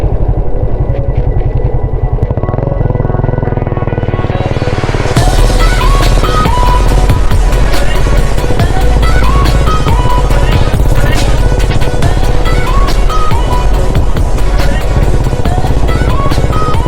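A restored 19-year-old 125cc motorcycle rides by with a loud, rumbling engine. It starts somewhat subdued, then swells into a full, close roar that holds steady to the end.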